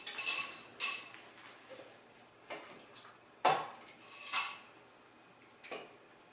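Beef stew being ladled into a bowl, with a spoon clinking and scraping against dishes in a series of short, sharp, irregular metallic knocks separated by quiet pauses.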